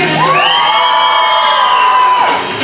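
Red team crowd at a dog race show in Kentucky Kingdom, Louisville, erupting in one loud sustained cheer with children shrieking and whooping, close and full for about two seconds before fading.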